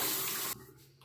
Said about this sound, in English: I'm going to rinse this one more time.